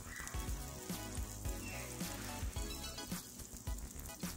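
Ground cumin sizzles in melted butter in a pan while a capsicum butter masala is being cooked, giving a steady, moderately loud crackle broken by short clinks from a utensil, with no voices.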